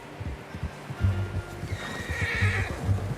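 A horse in the Red Dead Redemption 2 video game whinnies loudly and close by, its drawn-out neigh rising above steady hoof clops and low rumbling movement.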